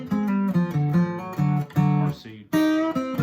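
Blues lick on guitar, transposed down into D with a hammer-on, from a sliding blues scale: a run of clear plucked notes with sustained harmonics, a brief pause near the end, then a final ringing note, close and alone.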